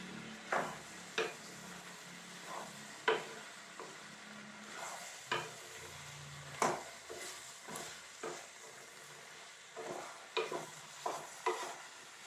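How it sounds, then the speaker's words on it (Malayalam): Curd is stirred into cooked avial vegetables in a pot, a quiet run of spaced scraping and clacking spoon strokes against the pot over a soft background hiss, with no talking. "തൈരും ചേർത്ത് നമുക്ക് നന്നായിട്ട് ഇളക്കി കൊടുക്കാം"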